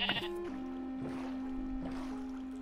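A single drawn-out sheep bleat sounds over quiet water ambience in the Minecraft video game, a clear wavering call standing alone after a short opening burst.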